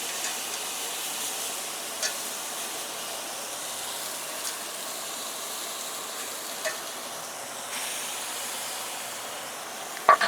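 A steak sears on a grill beneath a grill press, giving a steady, even sizzle and hiss that carries on unbroken at moderate volume with no talking.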